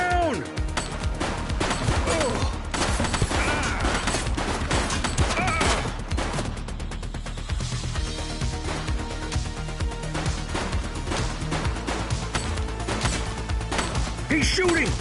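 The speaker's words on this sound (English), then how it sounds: "He's shooting!" Rapid gunfire in the police video game The Precinct, dense bursts of shots and clattering impacts over a loud, busy game soundtrack, with voices heard in places.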